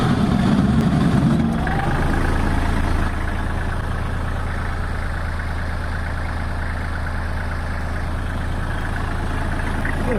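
Kubota tractor engine idling steadily while its front loader lifts the tractor, a continuous mid-low drone with a hydraulic strain in the first couple of seconds, close and unbroken.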